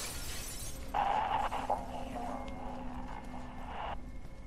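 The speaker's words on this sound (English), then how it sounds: "all of a sudden, all this glass and shit starts breaking" Glass shatters and breaks in the video game Fear 3, a loud burst followed by a sustained crackling, tinkling wash lasting about three seconds before cutting off.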